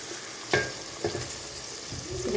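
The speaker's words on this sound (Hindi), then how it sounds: "अब हमारी सब्ज़ी ये फ्राई हो चुकी है" Mixed vegetables of potato, peas and carrot frying in a pan, a close soft sizzle with a few distinct scraping strokes of a spatula as the pieces are stirred and lifted out, with no voices.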